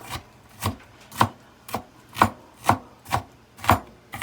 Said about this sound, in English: So just give it a rough chop.